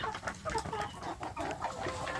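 Free-range kampung chickens cluck in a dense, overlapping chorus, close and continuous, with soft short calls from several birds at once.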